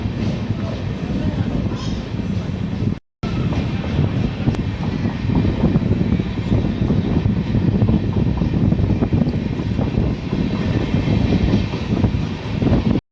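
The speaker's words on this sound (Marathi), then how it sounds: "बुरानपूरवरून आपली ट्रेन निघालेली आहे" The Kacheguda Bhagat Ki Kothi Express pulls out of Burhanpur, heard from inside as a continuous low rolling rumble with rattling carriage noise, broken by a momentary dropout.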